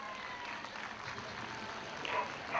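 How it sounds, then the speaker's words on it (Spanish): Applause from an audience at a Latin music festival in Quito, a steady diffuse patter of clapping that swells slightly near the end, moderately faint and with no clear talk over it. "¡Aplauso!"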